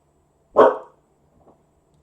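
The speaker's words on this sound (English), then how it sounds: "Crazy dog." One sharp, loud dog bark sounds indoors near the microphone, followed by a faint, brief second yip, then quiet.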